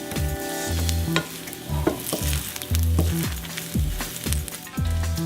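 Sliced almonds fry in butter in a pan for rice pilaf, a steady close sizzle broken by repeated scraping stirs in a loose rhythm, with no talking.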